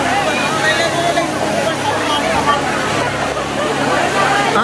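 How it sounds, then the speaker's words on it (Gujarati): Sumsar waterfall near Bhiloda in Aravalli district, with rain falling, roaring as a loud, steady wash of rushing water heard up close, with faint crowd voices mixed underneath. "સુમસરનો ધોધ."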